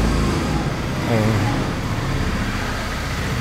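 Background road traffic forms a steady loud rumbling wash throughout, blended with a person speaking over it partway through, recorded badly in an outdoor interview setting.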